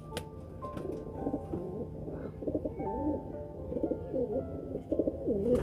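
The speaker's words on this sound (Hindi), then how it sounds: "लाजवाब और बेमिसाल किस्म के कबूतर" High flyer pigeons coo in low, rolling bursts, several birds overlapping close by, with occasional soft wing flutters and a faint background hum.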